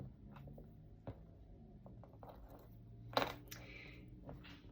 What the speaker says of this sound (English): and then I put a keychain on it